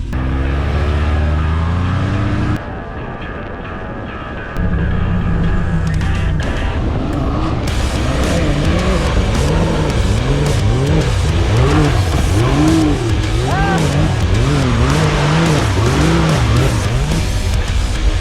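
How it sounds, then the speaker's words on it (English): A Defender Limited vehicle cruising at a steady speed, its loud engine and road noise droning continuously throughout, with a brief dip in level early on before the drive resumes at full volume. "Cruising speed in this Defender Limited is about 60 to 70."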